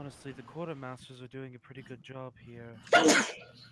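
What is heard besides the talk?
sneeze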